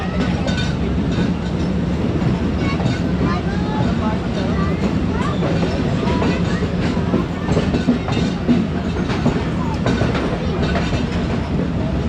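Khyber Mail passenger train travelling on rails between Lahore and Multan, a loud, steady, continuous rumble with rhythmic clickety-clack of the wheels throughout, heard from inside the train.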